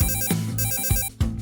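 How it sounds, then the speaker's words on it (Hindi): An incoming call sets a phone ringing: a loud, bright electronic ringtone with stacked tones, pulsing in short repeated bursts with thumping accents, close and filling the space. "ओह नहीं, किसका कॉल है?"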